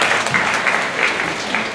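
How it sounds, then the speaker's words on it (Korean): A church youth group audience gives a short round of applause. The clapping is dense and steady and sounds like it fills the room. "박수를 좀 쳐주세요"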